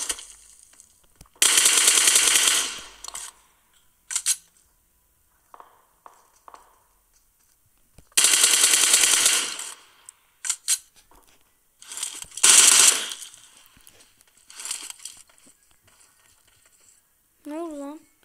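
Bursts of automatic gunfire in an online shooter video game, several loud volleys of rapid shots separated by short pauses and scattered single shots, with a brief electronic warble near the end.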